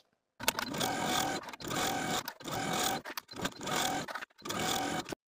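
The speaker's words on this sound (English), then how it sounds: "edge stitch your material close to the inner fold all the way around" A sewing machine edge-stitches a peplum top close to the inner fold, running in five steady whirring bursts of about a second each, separated by short pauses, loud and close.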